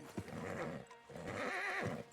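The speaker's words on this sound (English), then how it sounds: "Marston, you're gonna tether him up to Javier's horse." A horse whinnies twice in Red Dead Redemption 2, a loud close neigh with rising and falling pitch, faint hoof clops underneath and no speech.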